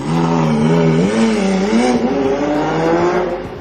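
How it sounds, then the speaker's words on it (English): A loud racing car engine sound played through a Renault Captur's speakers revs steadily, its pitch rising and falling in smooth sweeps, with no talking. "There's even an app that plays the sound of a racing car through the speakers as you drive along."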